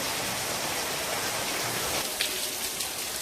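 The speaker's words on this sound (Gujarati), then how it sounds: "અત્યારે વરસાદ બહુ પડી રહ્યો છે અને વીજળી પણ થઈ રહી છે" Heavy rain pours steadily during a thunderstorm with lightning in Gujarat, a dense, broadband hiss drumming on surfaces nearby without a break.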